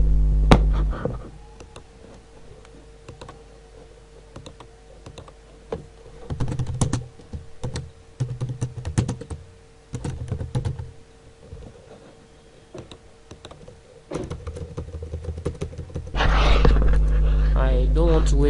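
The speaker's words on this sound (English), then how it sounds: "it seems I have to type this thing out" Typing on a computer keyboard while building a sales page: close, uneven bursts of quick clicks separated by pauses, with a steady faint background tone and a louder sustained sound near the end.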